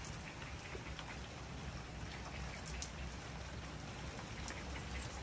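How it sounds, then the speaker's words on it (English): Light rain falling outdoors, a steady, even patter of drops on surfaces throughout, fairly quiet and continuous with no voices. "It's raining a little bit today."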